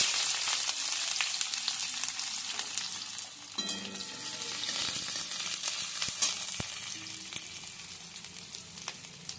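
Chopped onion frying in oil left over from frying fritters, a dense hissing sizzle with intermittent spatula scrapes and taps as it is stirred, close by and unaccompanied by speech.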